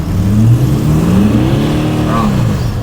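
A 4WD's engine revs hard in sand mode while bogged in sand, a loud close roar that climbs in pitch and holds, wheels spinning without moving.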